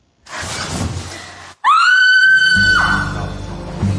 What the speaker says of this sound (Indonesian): Tanpa sebab yang jelas, si cewek ini malah berteriak.